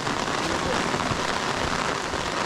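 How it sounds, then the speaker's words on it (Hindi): Heavy rain falls steadily near a waterfall on a trek in North Bengal, a dense, loud, unbroken hiss of drops close by. "बारिश भी ज्यादा हो गई यार।"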